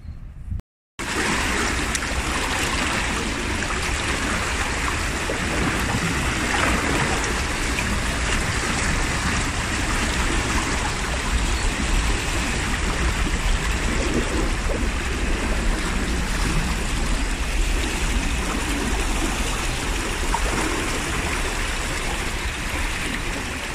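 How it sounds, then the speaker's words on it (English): Fast-flowing floodwater of a river near a marina, a loud, steady broadband rush of churning water with wind, continuous and close throughout, with no voices. "The river is just everywhere with a really fast flow on it."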